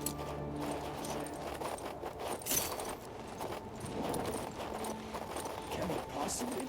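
Horse hooves clip-clop in the fantasy video game King's Bounty 2 as a steady, continuous trotting rhythm under a bed of ambient game sound and music.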